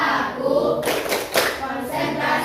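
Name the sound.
students doing the concentration clapping game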